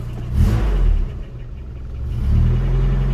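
A Suzuki Swift ZC31S with a turbo engine starts and settles into a low, rumbling idle with slight rises in revs, close and steady.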